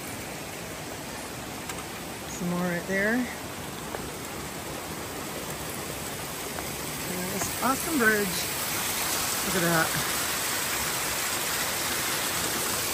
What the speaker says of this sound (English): Some water popping out of the side of the mountain.